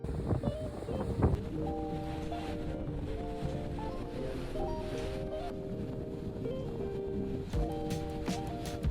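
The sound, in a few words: ocean waves on the beach at Tharangambadi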